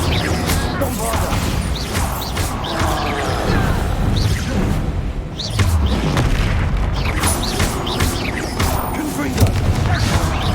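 Explosive Bombarda spells fire in Hogwarts Legacy, heavy booms and crashing impacts landing repeatedly over a dense, rumbling battle backdrop, loud and close, with a voice calling out spell names amid the noise.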